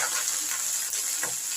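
Chopped chickpea greens hitting a hot pan of already fried vegetables give a steady, close hiss of frying, with soft stirring scrapes and no one speaking.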